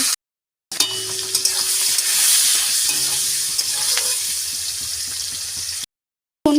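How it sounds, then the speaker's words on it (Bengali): Yardlong beans being pan-fried for a mixed winter vegetable curry, with a steady, close sizzle and soft stirring scrapes after a short silent start, stopping abruptly near the end. "পর বরবটিটা কিছুটা ভেজে নেব।"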